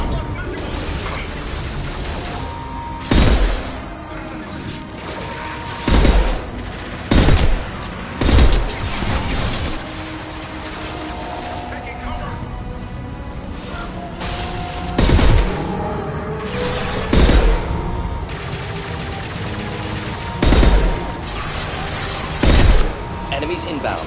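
High-impact gunshots in a video game, about eight loud, sharp reports spaced a few seconds apart over steady background game noise, with a voice talking between them.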